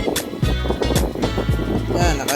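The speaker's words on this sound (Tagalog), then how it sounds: "Lakas ng hangin tapos relax pa." Strong wind at Puerto Galera roars and buffets the microphone in a steady, loud rush, with a voice sounding over it throughout.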